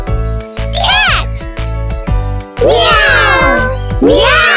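A voice imitates a cat meowing in a children's bedtime story game of animal sounds, three drawn-out, rising-and-falling meows following a short spoken word, close and loud.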